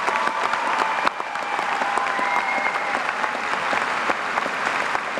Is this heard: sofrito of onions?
no